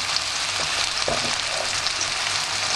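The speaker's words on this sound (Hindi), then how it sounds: "उसको अच्छी तरह से भूनेंगे ऑनियन को" Onions frying in a pan for a mushroom fry, a loud dense crackling sizzle that stays even throughout, with a faint clink of a utensil partway through.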